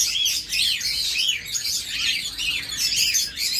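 A creamino opaline pet bird pair, a male and a female, chirping and tweeting continuously at close range, with bright, overlapping high calls repeating throughout and no talking.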